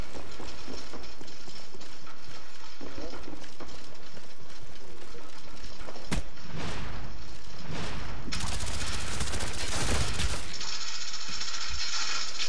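Gunfire bursts from a Call of Duty Black Ops match, with loud sharp cracks and rapid volleys layered over mechanical clatter, harsh and close in the game mix.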